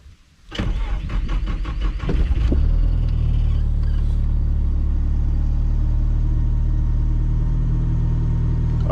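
A car called Judas, back from a fuel-pressure repair, cranks briefly and catches, then settles into a steady, loud, close idle rumble that continues unbroken to the end.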